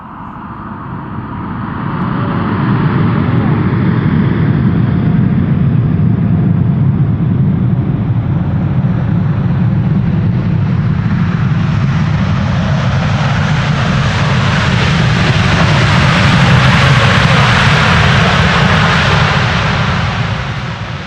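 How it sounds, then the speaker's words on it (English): An airliner landing at Amsterdam Schiphol applies thrust reversers on a snowy Polderbaan runway, a loud sustained jet roar that swells and holds for about twenty seconds, with no talk. "This is what you get when you apply reversers on a snowy runway."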